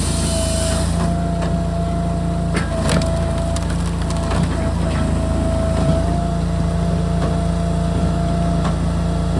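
A firewood processor powered by a TYM 264 tractor cuts wood under a steady loud engine drone, with repeated cracking and splintering bursts at intervals throughout.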